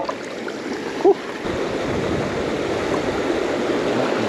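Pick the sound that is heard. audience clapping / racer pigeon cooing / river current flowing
river current flowing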